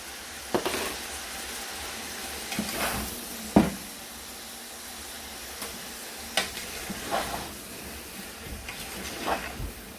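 Spring onions sizzle and hiss in a hot pan for fried rice, a continuous close frying noise broken by several sharp scrapes and clacks of a spatula tossing them.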